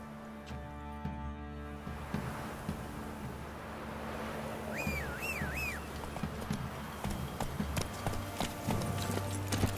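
A horse clip-clops at a steady gait in The Witcher 3: Wild Hunt, the hoofbeats fairly close, under game music, wind and a soft whistling tone partway through.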